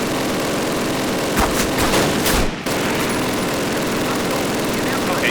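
Machine gun fire in the video game Call of Duty, a short cluster of loud bursts in the middle of a dense, constant battlefield din.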